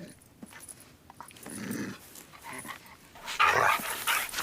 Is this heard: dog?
yes